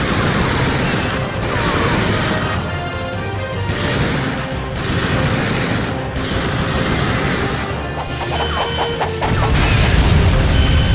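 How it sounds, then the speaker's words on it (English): Dense, sustained machine-gun fire and heavy booms in the arcade shooter Time Crisis 3, loud and continuous for the whole stretch with crashing impacts layered over it. "Machine gun."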